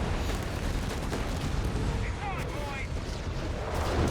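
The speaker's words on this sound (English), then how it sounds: "Got Whiz-bang barrage here employing white phosphorus." Whiz-bang rocket barrage with white phosphorus in Company of Heroes 3, a dense continuous rumble of launches and impacts that roars steadily and loudly throughout, with faint whistling streaks in the middle.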